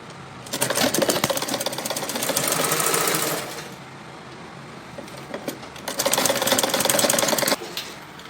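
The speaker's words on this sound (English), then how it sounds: "then fold the second time, and sew. After folding, you sew." A sewing machine stitches along the folded edge of aso oke gele fabric in two loud, steady bursts of rapid mechanical whirring, split by a quieter pause.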